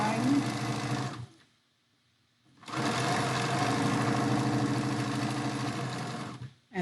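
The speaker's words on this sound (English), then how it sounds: "I'm just going to stitch across on my line." Sewing machine stitching quilt block pieces for an Ohio Star block, running in a steady, loud, even whir, then stopping for about a second and a half before a long second run.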